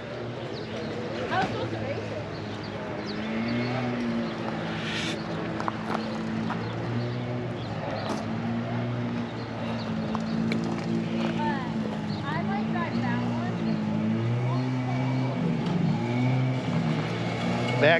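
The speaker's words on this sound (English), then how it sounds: "the John Deere Sportfire." A vintage John Deere Sportfire snowmobile engine runs at a snowmobile show, a loud steady droning tone with shifting pitch, while people talk nearby throughout.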